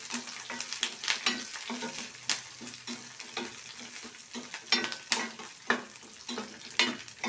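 Red chillies, green chillies and curry leaves crackle in hot oil for idli 65, a busy close sizzle punctuated by repeated rhythmic spoon-against-pan stirring clinks and no talk.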